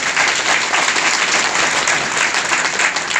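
A seminar audience in Bagodar gives loud, sustained applause, a dense and even roar of many hands clapping close by throughout.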